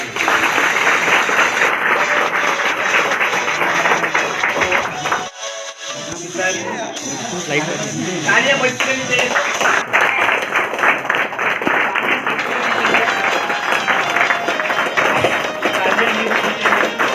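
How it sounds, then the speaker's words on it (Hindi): Loud, dense clapping from a large crowd at a direct-selling meeting in Ambikapur, steady and sustained throughout with a brief dip midway where other sounds and voices show through. "एक बार अच्छे से जोरदार ताली"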